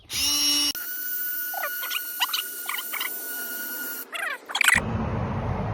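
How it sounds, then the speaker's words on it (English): A DeWalt buffer polishes a car headlight, giving a steady motor whine with squeaky chirps as the pad works the lens. It is loud and close, and the sound shifts abruptly near the end. "the best buffer and the cheapest buffer you can buy right now this season"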